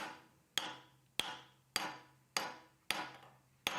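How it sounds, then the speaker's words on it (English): A mallet strikes a hardened knife blade six times at a steady rhythm, each blow a sharp, ringing metallic hit with a brief decay, loud and close with nothing else audible. "when hammering on a hardened object, use a mallet so that it doesn't shatter in your face"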